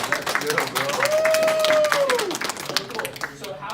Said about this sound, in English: Congrats, we give them a round of applause.